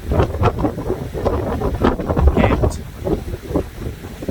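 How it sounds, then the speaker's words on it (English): Strong wind buffets the microphone on an exposed New Zealand bush hillside in winter, loud gusty rumbling and roaring that rises and falls without pause. "Wind was meant to die off, but it ain't hit stronger today"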